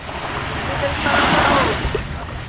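Rough sea churns and washes around a small wooden boat on the open Pacific, a steady broadband rush of waves and wind swelling in the middle and easing off toward the end.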